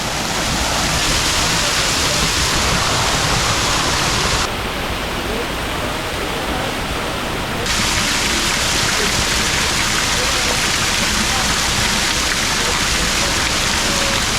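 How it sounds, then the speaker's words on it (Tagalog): A small cold-water waterfall, a mini Kaparkan Falls in Abra, Philippines, pours with a loud, steady, broadband rushing hiss that fills the scene without pause. "I-experience niya yung ano, mini Kaparkan Falls."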